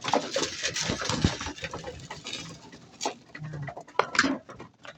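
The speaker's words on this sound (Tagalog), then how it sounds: "gutom na yung aking kalapate" Hungry pet pigeons waiting for feed make soft cooing and busy shuffling and fluttering sounds close by, with scattered pecks and taps over a continuous low murmur.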